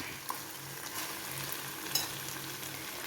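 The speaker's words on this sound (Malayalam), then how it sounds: "ഇഷ്ടമില്ലാത്തവർക്കൊക്കെ നമുക്ക് ഇങ്ങനെയും മീൻ വറക്കാം" Dried fish fries softly in a small amount of oil, giving an even, fairly quiet sizzle with a couple of light pops and scrapes, no voices.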